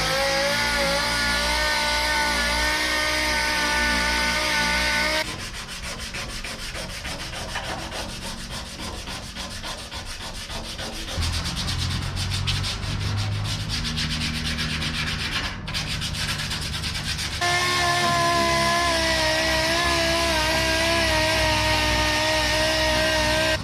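Sanding on the body of a Chevy Camaro drag car being smoothed toward a final finish, a steady close abrasive rubbing with a shift in tone partway through, no talk.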